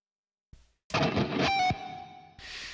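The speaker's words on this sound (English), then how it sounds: "Turn the reverb up a bit." Electric guitar played through a rig with reverb raised and delay switched off, a few struck notes and a sustained chord ringing out and decaying in a wash of reverb, fairly close and alone.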